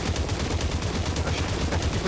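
Rapid automatic gunfire from a weapon in the VR shooter Population One, a fast continuous stream of shots, loud and close, with no talk.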